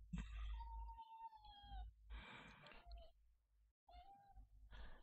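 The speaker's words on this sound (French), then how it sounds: "le petit chat, si tu pouvais te calmer un petit peu, ça m'arrangerait" A cat meows repeatedly and insistently, drawn-out cries close by, separated by short quiet gaps.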